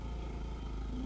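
A motorcycle drones along a road between Pokhara and Baglung, a steady low engine hum with wind rumble, continuous and fairly close.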